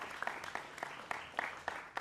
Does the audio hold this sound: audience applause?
yes